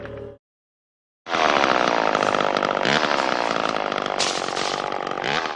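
A chainsaw from the 1987 horror-comedy Bad Taste roars loud and steady after a brief opening burst and a short silence, with its pitch rising toward the end.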